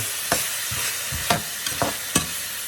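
Pork and vegetables stir-fry in a hot pan, a constant sizzle punctuated by four or five distinct scraping stirs at irregular intervals, close and loud with no one talking.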